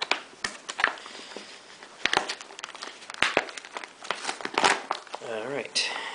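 Peelable seal of an MRE pouch, Menu No.6 Chicken With Noodles, pulled open by hand with close, crackly crinkling and tearing bursts of plastic packaging, and a voice speaks briefly near the end.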